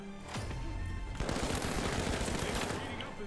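Sustained gunfire in the video game The Finals, a dense rattle of rapid shots that starts softly and then fills the scene as a steady, fairly loud barrage.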